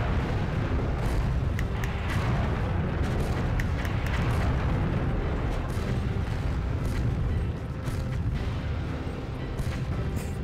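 Swarmer missiles blasting enemy tanks in the Battle Tanx video game: a dense rumbling barrage of explosions and bursts, loud and continuous throughout, without speech.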